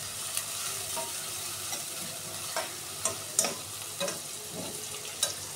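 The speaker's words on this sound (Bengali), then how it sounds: "এখন আমি পেঁয়াজটা ভেজে নিব" Onions sizzling in a pan as they are stirred, a continuous crackling fry with repeated soft scrapes and taps of a spoon.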